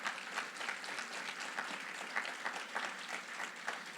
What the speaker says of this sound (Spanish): ¿Cuántos damos aplausos al que murió por nosotros?